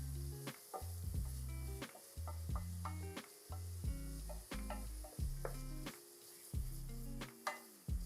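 Garlic sizzling in a pan with onions while being stirred, a steady close frying hiss broken by repeated spoon scrapes and knocks against the pan.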